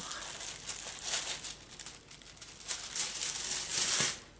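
A scrapbooking parcel is unwrapped and opened up close, with crisp crinkling and rustling of packaging coming in irregular bursts, a few sharper tearing crackles near the end.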